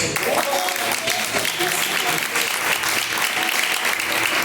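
A church congregation applauds during a live evangelical service, dense and steady clapping filling the space with a continuous, loud wash and a crowd murmur beneath.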